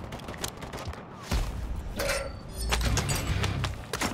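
Video game gunfire in a squad match, bursts of shots dense and continuous throughout, with occasional louder cracks over a busy battle background.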